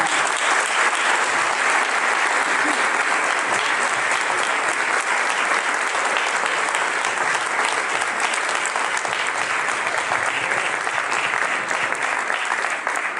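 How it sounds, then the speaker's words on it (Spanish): A heritage-restoration presentation audience in Medellín gives long, loud applause, a thick continuous patter of many hands clapping evenly for over ten seconds without speech. "Entonces, un aplauso para"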